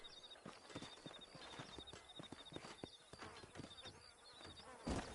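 Horse hooves clip-clop in a steady, fairly close rhythm in the Red Dead Redemption video game, with a high buzzing insect-like drone running throughout and a louder thump near the end.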